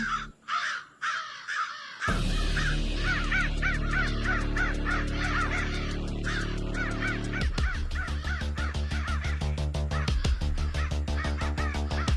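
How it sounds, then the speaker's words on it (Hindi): Crows cawing while circling over a forest, repeated harsh caws coming in a steady rhythm, loud and close, over a sustained low musical drone with rhythmic percussive hits in the later part. "कौवा बहुत मंडरा है।"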